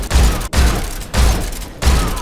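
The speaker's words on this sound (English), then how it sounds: "shoot him 3 times with tactical reload" Four loud rifle shots from Metal Gear Solid 3 Delta, fired at a steady pace about half a second apart. Each has a deep, punchy crack and a short decay, close and alone.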